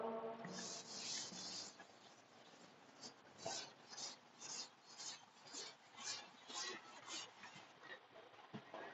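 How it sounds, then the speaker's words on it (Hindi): Formulas are rubbed off a board with a duster in a series of soft, rhythmic rasping strokes, faint and close, with a quieter scraping start before the strokes settle into a regular back-and-forth. "मैं ये फॉर्मूले रब कर रहा हूं।"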